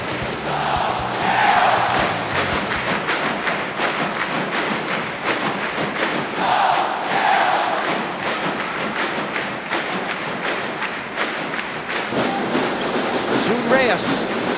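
Basketball game crowd in an arena cheering loudly and continuously during a finals game, with rhythmic clapping or thudding beats running throughout and swells of roaring.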